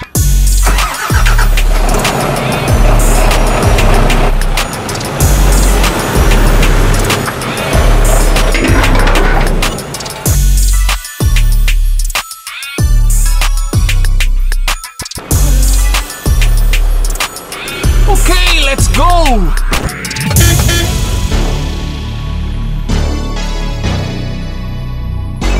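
An IVECO Stralis 460 truck pulls out of a yard gate, its engine loud and close with repeated surges and drops in revving, punctuated by brief breaks and a rising whine near the end.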